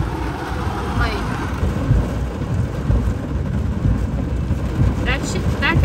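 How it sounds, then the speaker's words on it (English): Heavy storm rain pours steadily outside a parked car, a dense, loud hiss with low rumbling and splashes of passing traffic, and someone talking over it. "Look how it is, like, crazy rain."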